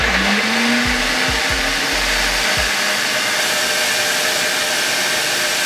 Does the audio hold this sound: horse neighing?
no